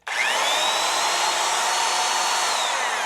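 A Black and Decker 7004 Type 1 electric drill, newly reassembled after teardown, runs at a steady high-pitched whine for about three seconds, close and loud with no talking.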